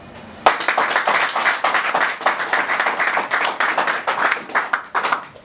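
An audience at a political gathering for young entrepreneurs claps steadily, a dense burst of close hand claps that rises sharply and holds at full strength for several seconds, with no talk over it.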